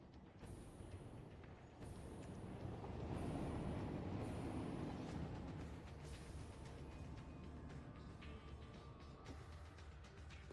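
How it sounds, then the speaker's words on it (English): A coal train in the Satisfactory video game starts moving with a low, faint rumble of rolling railcars that swells and then eases into a steady drone, with periodic clicks and occasional squeals. "and then set our train in motion. Our coal train."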